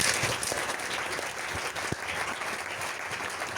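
Church congregation applauding in a steady broadband wash of clapping, continuous and fairly even throughout with no voices standing out.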